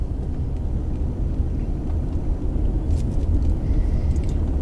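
Several cars pass a park in Everett, producing a constant low rumble of road traffic that swells slightly near the end with faint higher tire hiss, no voices present.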